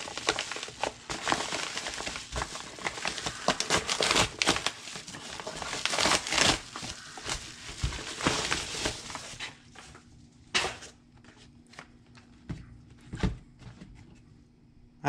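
Cardboard and plastic packaging from a package of RC hobby items being torn open, crinkled and handled, dense and close for the first half, then sparser rustles and taps as it quiets.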